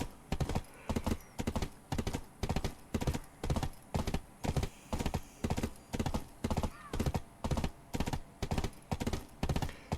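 A horse's hooves clip-clop steadily at a riding pace in the video game Black Desert, with evenly spaced, crisp hoofbeats repeating throughout.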